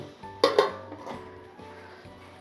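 A metal lid is set onto a pot of mutton biryani, giving two sharp close clanks followed by a faint metallic ring and soft settling clinks, with quiet room hum underneath.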